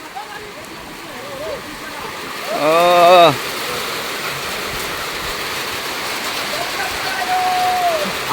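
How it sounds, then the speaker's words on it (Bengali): A rushing wash of rain sweeps in as a pre-monsoon Kalbaishakhi storm arrives over open riverside farmland, heavy and continuous, while voices call out over it. "বৃষ্টি চলে আসছে, বৃষ্টি চলে আসছে।"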